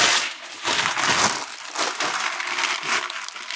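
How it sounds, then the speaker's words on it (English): Paper crinkles and crumples loudly up close, rustling in repeated bursts as it is crushed and stuffed into a shipping box. "I'm just gonna stuff some paper"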